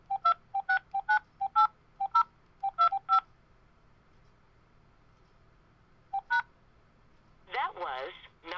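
Telephone keypad DTMF tones entering a phone number: about a dozen short beeps in an uneven sequence, then a pause and one more tone, followed by a brief burst of voice.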